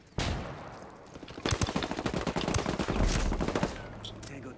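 Dense bursts of rapid gunfire from a video game firefight, loud and close, with overlapping automatic and single shots rattling continuously after a sharp opening report.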